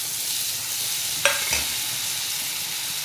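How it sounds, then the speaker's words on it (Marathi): Washed masoor dal sautéing in a pan with drumsticks, a steady loud sizzle throughout, broken near the middle by a quick scrape and clink of the stirring spoon. "ती पण चांगली परतून घेणार त्याच्यामध्ये."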